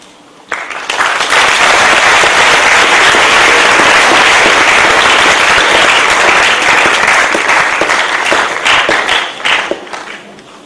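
Loud audience applause at a lecture, with dense clapping that starts suddenly, holds strong for about nine seconds, then tapers off.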